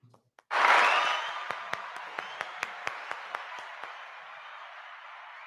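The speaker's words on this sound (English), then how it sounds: "as we all clap for you" Applause swells abruptly from a virtual summit audience, loud at first then settling into steady clapping, with several sharper individual claps standing out in a rhythmic run.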